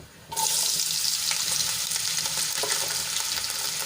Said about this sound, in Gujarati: અને સરસ રીતે તેલમાં સાંતળી લઈશું અહીંયા બટેટા આપણા